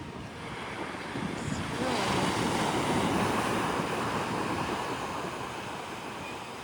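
Ocean surf on the beach at Santa Cruz, a broad wash of breaking waves swelling and easing, mixed with wind buffeting the microphone, fairly soft and distant.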